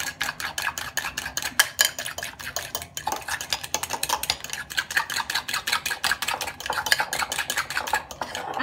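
An egg whisked into apple and blueberry waffle batter in a bowl: rapid, steady metallic ticking and scraping of the whisk, close and continuous, with no talking.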